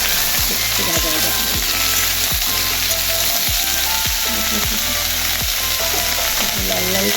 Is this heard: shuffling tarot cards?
no